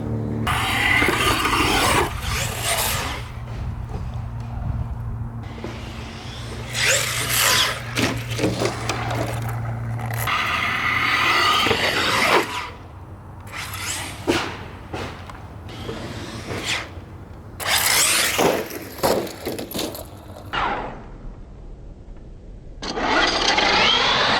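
A Traxxas Monster Slash 4x4 RC truck on 4S power drives and launches off a big jump, its motor whining and surging in loud bursts with gaps between runs, and rough scrapes and thumps of landings.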